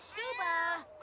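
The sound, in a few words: cat meowing in video game The Sims 4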